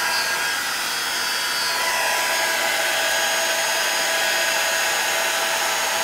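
A heat tool blows hot air onto craft paper with gold-decorated hearts, making it curl: a steady, close whooshing hiss that holds level and unbroken throughout, with no talking.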